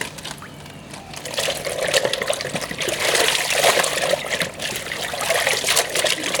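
Tie-dyed fabric is rinsed a third time, with a steady trickle and splash of water sloshing nearby, louder after the first second and continuing alone.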